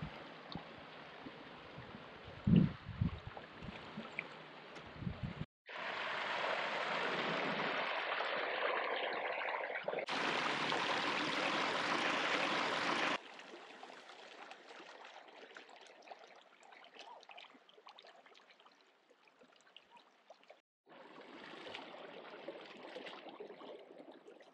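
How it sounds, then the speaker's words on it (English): Water running and splashing from an outdoor village shower in the Sri Lankan jungle, a steady rushing flow in several bursts, loud and close, broken by short pauses and changes in the spray. "This is a village shower right here."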